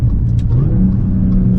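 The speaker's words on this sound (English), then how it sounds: "Some supercharger noise on downshift, that's killer" A supercharged, fire-damaged Audi S4 engine drops revs on a downshift, a loud close rumble with a rising supercharger whine running through the brief burst.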